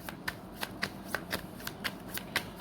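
Tarot cards being shuffled close up, a quick series of crisp riffling snaps in an uneven rhythm, fairly quiet and with no talking.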